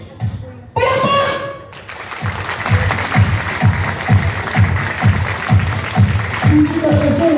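Guests at an 18th birthday celebration clap in a slow rhythmic beat, about a dozen even claps in a row, after a brief loud burst of voices, with faint talk underneath.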